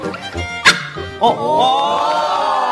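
A dog on a studio stage gives a few short yips and whimpers that rise into a drawn-out, wavering howl-like whine, loud and close, with people talking over it.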